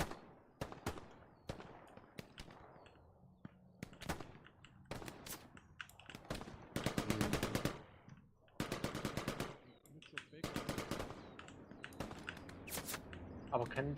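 Machine-gun fire in a trench warfare video game, with repeated bursts of rapid automatic shots, loud and close, mixed with scattered single gunshots and quieter gaps.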